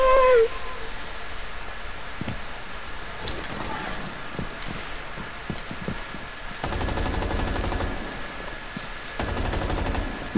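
Video game gun battle with scattered sharp shots and sustained bursts of automatic fire at moderate distance, clustered in two longer stretches with quieter gaps between them.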